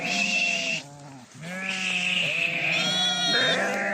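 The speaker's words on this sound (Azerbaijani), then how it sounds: "Bax qomral qoyun, qomral quzu." Several fat-tailed ewes and lambs bleat loudly and close by, overlapping calls rising and falling, with a short pause in the middle before more bleating.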